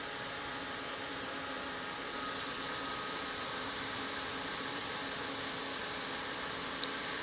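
Heat tool blowing over a slightly wet cardstock piece: a continuous, even airy whoosh with a faint motor hum, holding steady throughout and ending with a small click.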